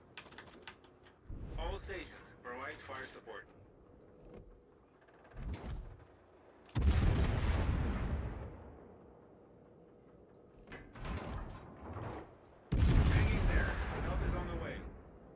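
Naval guns boom in World of Warships: several heavy blasts with long rumbling tails, spaced a few seconds apart, with game clatter and voices talking between the salvos.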